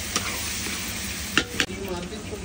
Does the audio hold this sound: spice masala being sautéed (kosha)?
yes